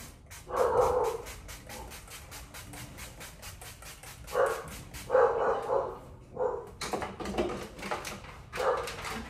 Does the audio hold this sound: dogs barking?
yes